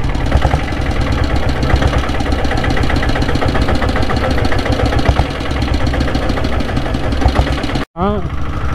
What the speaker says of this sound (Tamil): மேட்டு போட்ட வண்டிகள் அந்த அளவுக்கு சவுண்டு வந்துட்டு வரும்